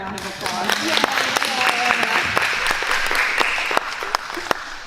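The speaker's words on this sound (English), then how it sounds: "Let's give her a round of applause." A meeting audience applauds a woman named Joanna, with moderate clapping, a few sharp individual claps standing out, and people cheering and talking over it.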